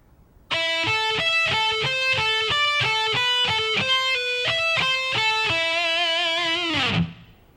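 A distorted electric guitar plays a shred lick slowly and cleanly, a string of distinct single notes ending on a held, fading final note, alone and close.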